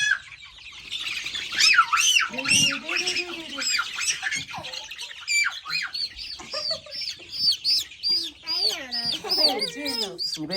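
A big hen squawks and clucks repeatedly near the microphone in short, loud, uneven bursts, with other bird chirps and faint voices in the background.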